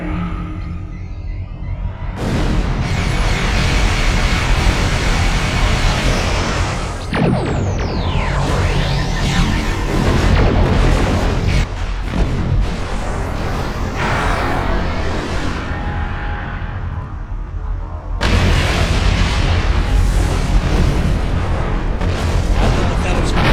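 Booming explosions and heavy weapon blasts from the Star Trek Online video game, with a Peregrine fighter small craft in action, rumble loudly in repeated bursts amid throbbing engine noise, and a voice speaks over parts of it.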